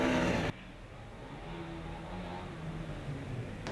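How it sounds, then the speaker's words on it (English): The engine of Orion Racing's car 311, a Formula Student race car from Mumbai, fires up during the Formula Student Germany 2016 endurance event. A short loud burst gives way to a steady, low, humming idle at moderate distance. "We can hear the car number 311 from Orion Racing in Mumbai firing up"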